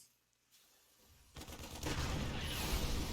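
Siege tanks and units clash in a StarCraft II battle, a dense rattling barrage of gunfire and blasts that swells from quiet into a loud, sustained roar.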